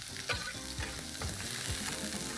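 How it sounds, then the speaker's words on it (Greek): Chopped onion and garlic sauté in olive oil in a pan, probably with lamb mince, giving a steady close sizzle broken by several scraping stirs, with no talking. "Κάνω ένα γρήγορο σοτάρισμα. Τι ωραία που μυρίζει, ρε φίλε. Το κρεμμύδι και το σκόρδο μαζί με το ελαιόλαδο."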